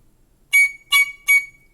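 Three short, shrill squeaks from a recorder with a finger hole left uncovered, each sharp and isolated, evenly spaced against near silence.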